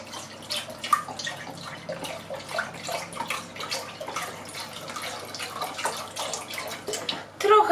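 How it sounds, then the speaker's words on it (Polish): Lactose-free milk pouring into a cooking pot for a plum cake with pudding, a steady liquid splash and trickle close by that runs continuously and ends with a few louder clinks. "Wlewam mleczko."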